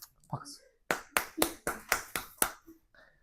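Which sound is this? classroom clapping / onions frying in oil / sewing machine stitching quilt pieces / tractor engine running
classroom clapping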